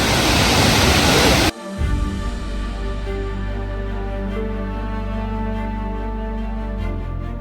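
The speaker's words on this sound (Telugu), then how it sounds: "ఇదండి వాటర్ ఫాల్, బాగుంది." Steady roar of a waterfall near Munnar, Kerala, loud and continuous, with a burst of broadband rushing at the start before settling into a constant wash of falling water.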